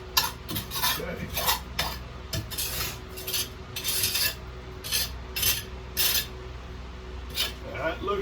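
A trowel scrapes and smooths dry mortar mix for brickwork in steady repeated gritty strokes, close up at moderate loudness.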